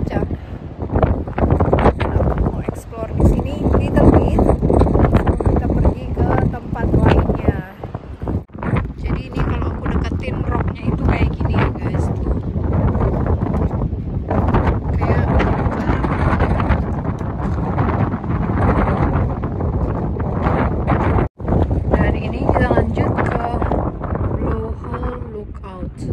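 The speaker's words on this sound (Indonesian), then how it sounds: "Dan ini anginnya super kencang." Strong, gusting wind buffets the microphone at Petrified Forest National Park, a loud, continuous roar with constant rumble, and a person talking over it throughout.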